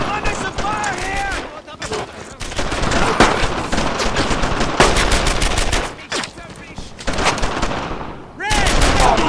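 Heavy gunfire in Brothers in Arms: Earned in Blood keeps up as sustained machine-gun bursts and rifle shots, loud and close, while soldiers shout over the noise.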